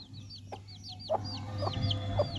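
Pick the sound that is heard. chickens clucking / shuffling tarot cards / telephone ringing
chickens clucking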